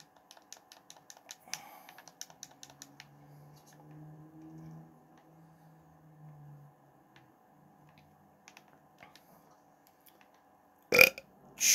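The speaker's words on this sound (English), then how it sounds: "I apologize if I said that was only one burp" A loud burp rumbles for a few seconds over rapid keyboard typing during a Fortnite zero build ranked battle royale match, followed later by a sharp burst of noise.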